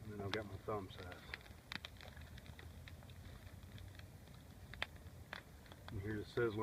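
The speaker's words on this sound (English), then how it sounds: "You hear the sizzling just because it's been a little bit wet out here and raining for the past couple of days." Wet twigs in a small flint-and-steel campfire, lit with char cloth after days of rain, give off faint sizzles and sharp little crackles and pops scattered through the quiet, with brief speech at the start and end.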